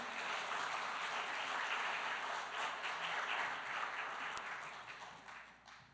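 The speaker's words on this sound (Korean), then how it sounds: "우리 크게 박수로 환영해드리겠습니다." A church congregation applauds to welcome a pastor, sustained clapping from a crowd that holds steady and then fades out toward the end.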